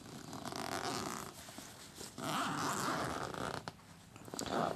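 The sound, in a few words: zipper of camera bag being opened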